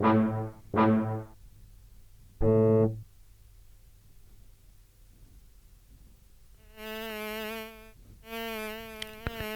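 A fly-like synthesizer patch in BrutBox motion-sensor software produces several short buzzy tones with rich harmonics, then longer sustained buzzing notes near the end, separated by near silence.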